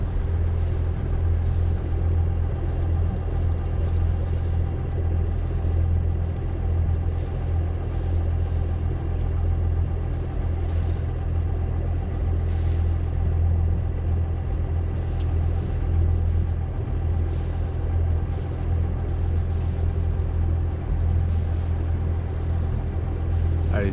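A boat engine's steady, low drone runs continuously with a deep rumbling hum, slowed while passing under the Senegambia bridge between Bintang and Bambali, loud and close, with no speech over it.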